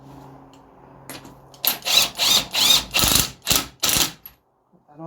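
A nut being tightened onto a replacement front coil spring on a Vauxhall Astra J (MK6), heard as a run of seven loud, close ratcheting bursts in quick succession that then stop.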